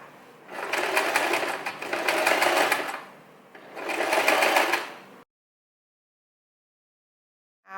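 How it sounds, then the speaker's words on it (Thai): A sewing machine stitches down a folded blouse sleeve in three close, fast-running bursts with short pauses between them, then falls silent. "แล้วเดี๋ยวเราจะเย็บกดรอยพวกนี้ไว้ก่อนนะคะ"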